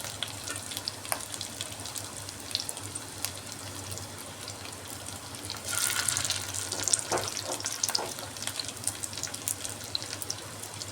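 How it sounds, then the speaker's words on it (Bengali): Rohu fish roe fritters shallow-frying in oil over a low gas flame, a quiet steady sizzle with light scraping and clatter, swelling a little louder toward the end, close and without talk. "একটু লাল লাল করে ভাজতে হবে কড়া করে তবে খেতে ভালো লাগবে"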